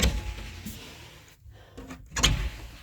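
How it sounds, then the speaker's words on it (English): A closet door in an attic is pulled open all the way, giving a few close, dull scraping and knocking sounds with a brief pause, then a louder bump at the end. "And now I can open this closet door all the way."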